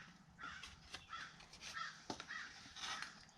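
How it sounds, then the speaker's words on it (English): Crows cawing outdoors, a series of about five rough, hoarse caws in an uneven rhythm, faint and distant behind quiet room tone. "And the crows have decided to make an appearance today."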